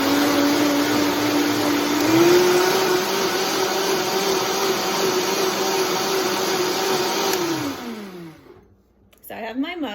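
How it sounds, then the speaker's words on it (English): A countertop blender whirs steadily at a loud, constant pitch while mixing a vegan protein shake, its motor droning for several seconds before spinning down and stopping, followed by faint handling noise. "So I'm gonna blend it now."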